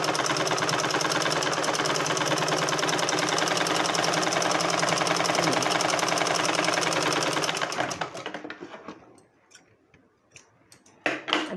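A sewing machine stitching a blouse runs in a fast, steady, loud whirring rattle for about seven seconds, then stops, leaving a few clicks and faint handling knocks.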